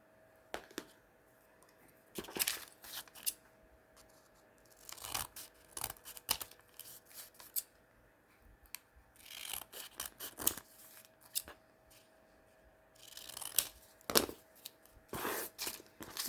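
Scissors cut folded paper in a series of crisp snips and rustles, arriving in irregular bursts with quiet gaps between, close and fairly soft.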